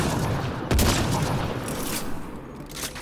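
Weapon fire in the sci-fi shooter game Mass Effect: Andromeda, one heavy blast followed by a dense, loud rattle of shots and impacts with no voices.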